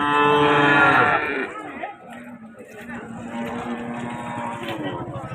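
A Punganur cow gives a loud, drawn-out moo at a busy cattle market, then fades into crowd chatter and people talking, with fainter lowing from other animals.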